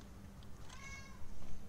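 A single cat lets out a short, drawn-out meow over a low background hum in the horror game Penumbra Overture, faint and brief.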